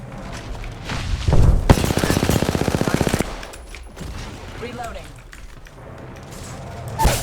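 Rapid automatic gunfire in the battle-royale shooter Apex Legends, a dense burst of evenly spaced shots lasting over a second, with scattered game effects and background noise around it.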